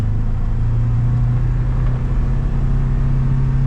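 Polaris Ranger XP1000 Crew Northstar utility vehicle driving in standard throttle mode, a steady, loud engine drone with a smooth, even rumble throughout and no talking.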